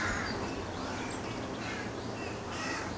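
Rooks calling from a nearby rookery, their hoarse caws rising in a few bursts over a steady outdoor background hiss, with no voices.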